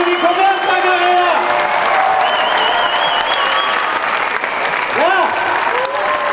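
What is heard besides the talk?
applause at a festival fashion show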